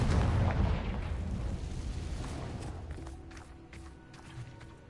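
A Confringo fire spell bursts in Hogwarts Legacy, a loud, broad explosive boom right at the start that rolls into a rumbling decay and fades over several seconds, with faint game sounds and small clicks near the end.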